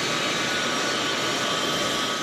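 A military transport aircraft arrives at Indianapolis carrying a shipment of infant formula from Europe, heard as a loud, steady broadband engine roar with no breaks, no voices.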